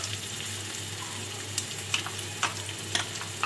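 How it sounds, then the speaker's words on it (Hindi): Almonds, pistachios and raisins frying lightly in desi ghee in a frying pan for sheer khurma, giving a steady, soft sizzle with a few faint stirring clicks near the end and no talking. "इन सब चीज़ों को हल्का हल्का फ्राई करना है, ज़्यादा नहीं करना"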